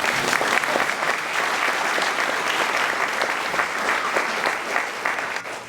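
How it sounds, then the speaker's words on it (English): A golf club audience applauds steadily, a dense wash of many hands clapping at a constant level from start to finish, with no speech over it. "round of applause, please"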